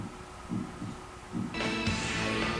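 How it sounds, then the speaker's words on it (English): A slow, muffled heartbeat thumps in the Sega Saturn light gun game Virtua Gun, a few soft pulses under low game ambience before a brighter burst of game noise takes over. "You can hear the heartbeat."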